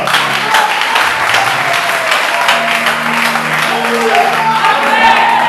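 Church congregation applauding in a steady, dense wave of clapping throughout, with a voice speaking over the applause and sustained tones from music in the background.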